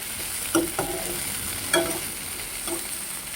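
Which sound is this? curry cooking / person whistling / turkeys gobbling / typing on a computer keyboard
curry cooking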